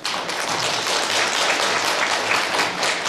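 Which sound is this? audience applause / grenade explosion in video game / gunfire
audience applause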